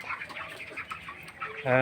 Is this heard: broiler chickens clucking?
yes